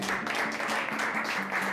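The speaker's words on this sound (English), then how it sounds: "Hey guys, big round of applause." Audience applause at a Berklee Institute for Creative Entrepreneurship event, steady dense clapping throughout the short stretch, moderately near, with a faint steady tone underneath.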